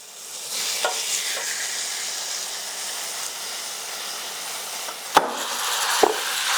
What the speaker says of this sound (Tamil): இப்போ நம்ம இதில் வந்து சிக்கனை சேர்த்துக்கிடுவோம்.